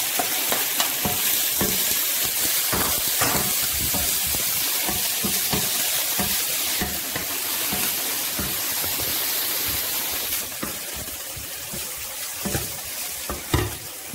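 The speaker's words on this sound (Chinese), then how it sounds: "倒入少少油。 倒入香菇一起炒。" Shiitake mushrooms stir-fried in a little oil give a loud, continuous sizzle and crackle with scraping stirs throughout, close up and with no talking.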